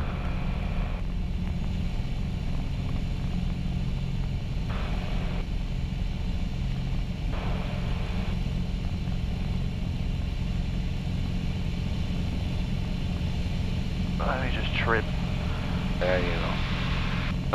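A Piper Arrow airplane engine at full power during the takeoff roll, a steady loud droning roar heard from inside the cockpit, with people talking briefly over it.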